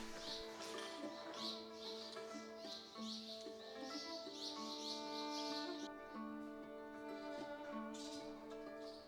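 Many birds calling together in a desert canyon, a dense, steady chorus of overlapping chirps and trills that carries on without a break and without any talk.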